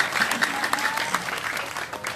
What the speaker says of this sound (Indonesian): Ini tepuk tangan sing banter